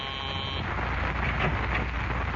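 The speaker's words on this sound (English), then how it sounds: "a call buzzer summons a nurse into a private room at the city hospital." A hospital call buzzer in a private room at a city hospital sounds a short, steady electric buzz, then cuts off and leaves a dense noisy background.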